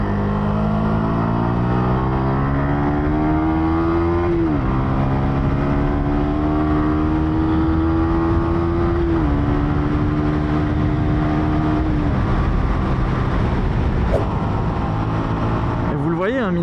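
Yamaha R125 motorcycle from 2023 ridden on the road, its engine droning steadily and climbing in pitch through gears with several shift drops, loud and continuous throughout with wind noise.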